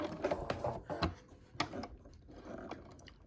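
A sewing machine stitches down the side of a bag in short, rapid mechanical bursts of whirring and clattering, close up, pausing between runs.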